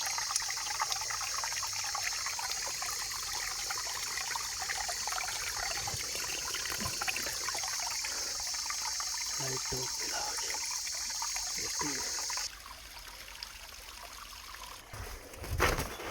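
A stream of water flowing out from beneath a large rock after a landslide in Hamathenna, Sri Lanka, making a steady, continuous trickling rush that drops slightly quieter near the end.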